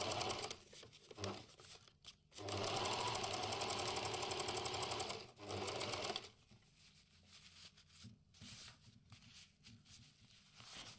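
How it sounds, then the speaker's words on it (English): Sewing machine stitching a lined sleeve close to its piping, running in bursts of steady rapid stitching separated by short pauses, with quieter handling sounds in between; no talking. "I'm stitching very closely to my piping, and that will understitch this part"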